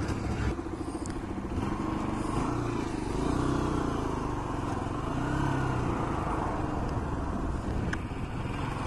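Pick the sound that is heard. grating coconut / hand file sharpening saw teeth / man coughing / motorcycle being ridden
motorcycle being ridden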